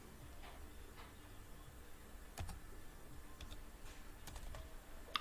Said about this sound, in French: Donc, je vais taper rapidement ce code-là.